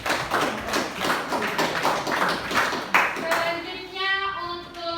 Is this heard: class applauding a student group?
yes